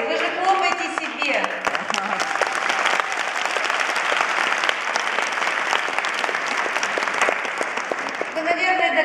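Dense, steady applause from a large audience at a small-business event in Russia, loud and continuous for about nine seconds with many overlapping claps.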